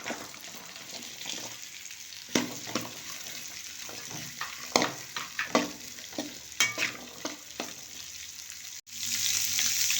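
Chopped garlic, ginger, green chili and onion fry in a pan for chilli chicken Manchurian. Soft sizzling runs under intermittent spatula scrapes and taps, then a louder rushing sound enters near the end.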